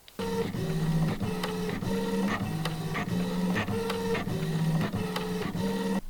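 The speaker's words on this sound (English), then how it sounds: "What I do have is full-size sticker sheets for the printer to, you know, make stickers." A printer feeds and prints onto fabric backed with a full-size sticker sheet, a close, steady mechanical whir with repeated rhythmic clicks and shuttling passes.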